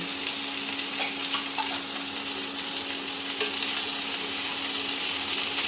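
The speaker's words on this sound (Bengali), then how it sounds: "এরপর এর মধ্যে টুকরো করে রাখা আলু আর গাজরটাও দিয়ে দেব।" Chopped potatoes and carrots join mixed vegetables frying in a pan, giving a steady close sizzle and crackle with light stirring scrapes, no talk.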